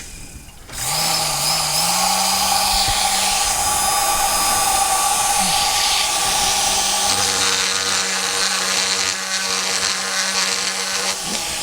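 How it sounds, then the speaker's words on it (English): A rotary grinder with a round burr porting a Mikuni SBN 44 carburetor for a Kawasaki 650 X2, whining loudly and continuously at close range after spinning up, its pitch shifting slightly as it bites the metal. "Turn on the grinder."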